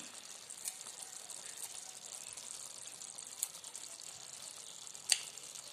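A curry side dish for chapati simmers in a pan, making a faint, soft continuous sizzle and bubbling with a few small pops, with no voice heard.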